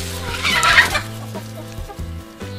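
Several chickens cluck nearby in short, irregular bursts, with one louder squawk early on and softer murmuring clucks following.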